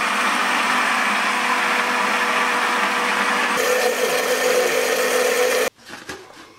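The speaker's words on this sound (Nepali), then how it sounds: "बिहान नै भिजाएर राखेको चामल पिस्ने मेसिनमा हालिसकेपछि" A grinding machine runs loud and steady as it grinds soaked rice for sel roti, the pitch shifting partway through before the motor cuts off, leaving brief clatter.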